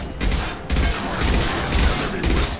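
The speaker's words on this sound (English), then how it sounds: "Firing a high impact shot." A high impact weapon shot in the sci-fi shooter Mass Effect 2 during combat, with loud, dense bursts of gunfire arriving in repeated waves over a continuous battle din.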